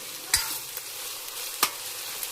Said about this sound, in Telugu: చేప ముక్కలు కూడా వేసేస్తున్నానండి. ఇందులో కాస్త సాల్ట్ వేసి కొంచెం సేపు ఫ్రై చేసుకోవాలండి.